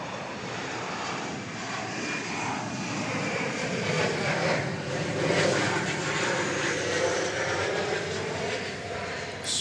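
United airliner on its takeoff roll from runway 18 Left at DFW Airport, a loud, steady jet engine roar that swells slightly mid-way and holds broadband, heard alone without talk.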